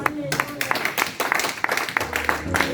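A congregation at a church service applauds and claps in an uneven, moderately loud patter, with a voice sounding over it near the end.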